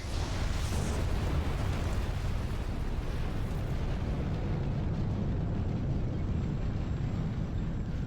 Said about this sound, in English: God, I love the orbital cannons in this.